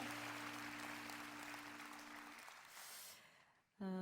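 Clapping from a congregation at a worship prayer meeting, fading out under lingering sung or held tones, followed by a sudden loud voice at the very end.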